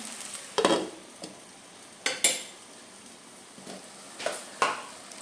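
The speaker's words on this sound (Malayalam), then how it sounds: "തക്കാളി അരിഞ്ഞതും കൂടെ ചേർത്ത് കൊടുത്ത് വീണ്ടും നമുക്ക് വഴറ്റി കൊടുക്കാം" Chopped tomatoes being sautéed in a pan for a brinjal curry: several sharp scraping and clinking spatula strokes against the pan, spaced irregularly over a faint background, close and fairly loud.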